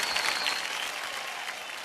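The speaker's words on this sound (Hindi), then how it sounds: "तालियों के साथ आपका स्वागत।" Studio audience applauding on a quiz game show, a steady dense wash of clapping, close and loud, continuing throughout.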